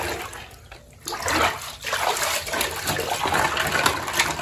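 Water splashes and sloshes close by after a quiet start, continuing in irregular bursts with a trickling, bubbly texture.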